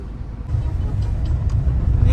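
Road traffic near Dadar, Mumbai: a steady low rumble of car and bus engines rolling past, fairly close and continuous, with faint voices underneath.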